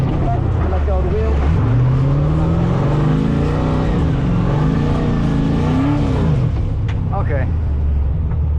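A tuned drift car's engine drones and revs loudly and steadily throughout, pitch rising and falling as it spins on a drift school track in Australia, with people talking over it.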